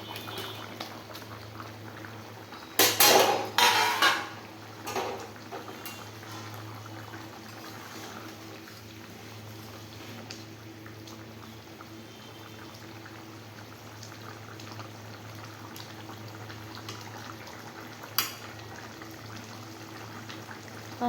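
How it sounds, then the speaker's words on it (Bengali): Curry gravy bubbling in a pot, a quiet continuous simmer with a few louder clattering bursts early on and a faint low hum underneath. "এই যে আমার ঝোল টকবক করে ফুটছে"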